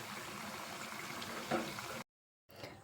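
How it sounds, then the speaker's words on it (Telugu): Banana bajji frying in hot oil, a steady soft bubbling sizzle with a brief louder crackle, cutting out suddenly before resuming faintly. "లైట్ బ్రౌన్ కలర్ వచ్చేంత వరకు కూడా దీన్ని ఫ్రై చేసుకోవాలి"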